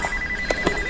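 A telephone rings in the 2004 horror film Saw: a brief, fairly quiet electronic ring with a sustained tone and a couple of short pulses, heard alone without talk.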